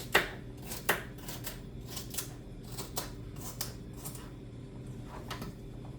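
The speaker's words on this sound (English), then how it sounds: "Get us some celery chopped up in there." Celery being chopped with a knife on a cutting board for a Southern baked chicken dish, heard as a run of quick, crisp cuts that come in short bursts of varying loudness, close by and with no talk.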